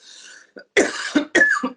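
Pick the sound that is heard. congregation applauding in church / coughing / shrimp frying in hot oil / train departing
coughing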